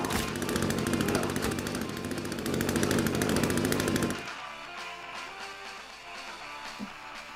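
In the video game The Forest, a chainsaw buzzes in a dense, rattling roar for about four seconds, then drops to a quieter background rumble.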